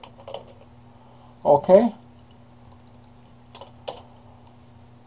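Keys clatter on a computer keyboard while text is entered into a WordPress post editor, a dense burst of typing in the middle followed by a few isolated clicks, heard near over a steady hum with a brief spoken word.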